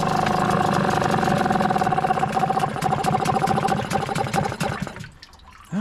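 On a cold morning, a Hangkai 6hp two-stroke outboard motor in water runs on choke with a close, steady buzzing idle for about five seconds. It then cuts out, leaving quiet water sounds and a brief noise at the end.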